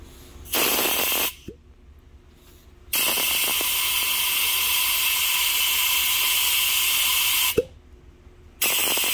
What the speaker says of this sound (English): We're doing a vacuum test.